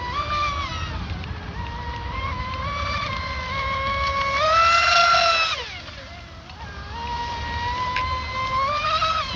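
A home-made RC speedboat, Wild Thing, screams through a full-throttle turn, a high whining motor that climbs in pitch, peaks loudly, dips sharply, then builds again, heard alone at moderate distance.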